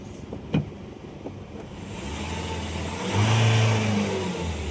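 An Isuzu D-Max pickup engine catches and revs up, a steady low rumble that builds to a louder, rising rev after a brief starter click, close by with no talk.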